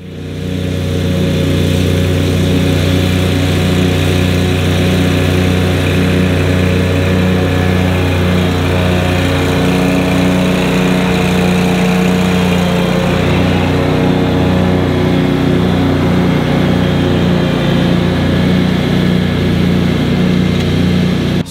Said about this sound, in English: So the autonomous mower is out there doing its thing.